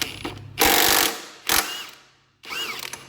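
A ratchet or power tool works a 5/16 nut on the front wheel of a 2005 GSX-R 600 motorcycle in three short close whirring bursts, with a brief mechanical click between them.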